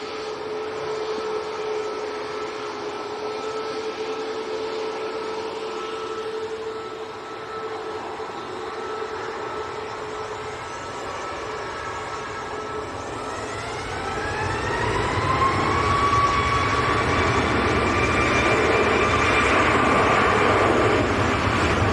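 An EasyJet airliner from Lanzarote arrives at Manchester Airport on a windy day, its steady engine roar rising into a louder, higher whine as it draws nearer, with no voices over it.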